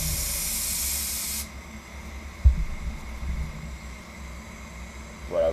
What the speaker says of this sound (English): You can help it dry off with the air gun if you want.